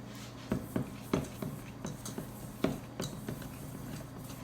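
Dry muffin ingredients for chocolate peanut butter muffins stirred in a bowl, a quiet series of soft scrapes and taps at an uneven rhythm, faint and close against a low background hum.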